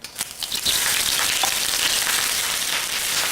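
Wood ear mushrooms fry in hot garlic oil, a dense, steady sizzle with scattered crackles and small pops, close and loud throughout, with no talking.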